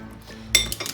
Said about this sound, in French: Et je vais mélanger tout ça. Je vais rajouter la cuillère à soupe de maïzena.